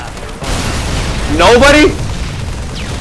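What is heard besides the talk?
rocket explosion in Halo 3 video game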